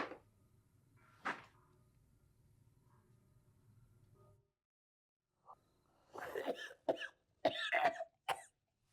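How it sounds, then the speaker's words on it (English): Several harsh coughs burst out in quick clusters after a quiet stretch, close and fairly loud, preceded by a faint low hum and a single early cough. "I've never seen someone knock themselves out just by coughing"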